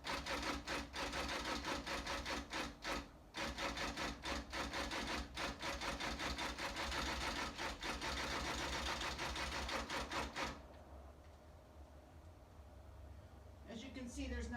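Long arm quilting machine driven by a Pro Stitcher program, stitching across quilt fabric with a steady close mechanical whir and rapid needle chatter for about ten seconds, then stopping into quiet room tone.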